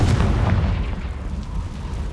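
A Confringo blasting spell goes off in the Hogwarts Legacy video game, a loud, sustained low boom with rumbling energy that stays dense throughout and fades only slightly by the end.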